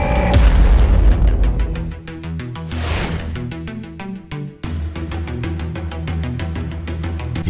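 Leaping Blow ability of the Shadow Hunter class in Lost Ark, a heavy booming impact with a whooshing burst, laid over steady, loud rhythmic game music that keeps pulsing after the hit.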